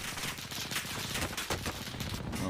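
Rapid gunfire fills a Warzone match, a dense run of close, loud shots and bursts that continues without pause across the moment.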